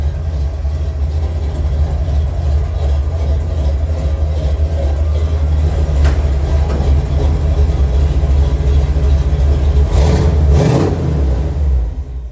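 A Ford F-150 race truck with 3.5-inch true dual exhaust and Flowmaster original 40 mufflers rumbles loudly at close range, a steady deep idle swelling into a couple of sharp revs near the end.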